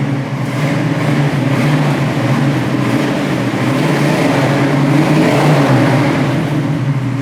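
Steady idle of a 1969 Chevy Nova's engine, a loud continuous low rumble with a throaty exhaust note that holds even throughout, heard alone with no talk.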